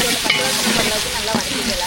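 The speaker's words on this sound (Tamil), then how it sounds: "எண்ணெய் சூடாயிடுச்சு, அரைச்சி வச்ச பொருளை எண்ணெயில சேர்த்துக்கலாம்." Ground masala paste for a green pea and potato masala hits hot oil, giving a brief, close, steady sizzle with a light stir.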